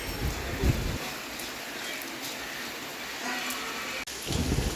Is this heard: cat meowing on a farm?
no